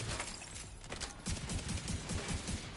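Rapid automatic fire from a UIC rifle in The Division 2, loud and continuous bursts of shots with mechanical clatter.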